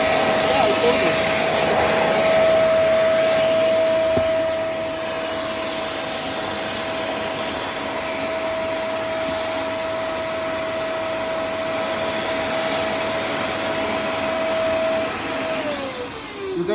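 A Black and Decker VM1480 1480W vacuum cleaner runs continuously, a loud, steady motor whine with a constant tone that dips slightly in loudness after a few seconds, with no talking.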